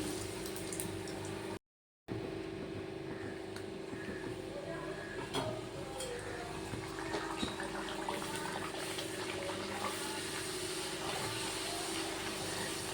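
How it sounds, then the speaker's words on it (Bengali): Luchi deep-frying in hot oil, a steady broadband sizzle and bubbling that runs nearly continuously at moderate level, with occasional small pops and no speech. "এইভাবেই সব লুচিগুলো আমি ভেজে নেব"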